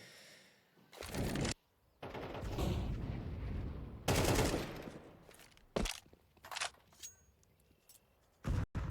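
Shotgun blasts and rifle fire in a Counter-Strike 2 pro match, several loud sharp bursts separated by gaps, with short footstep-like clicks between the shots.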